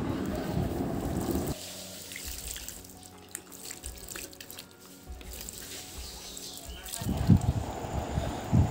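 Water poured onto garden plants at their base, soil soaked around the stems, trickling and splashing close by in two bursts with a quieter dripping stretch between.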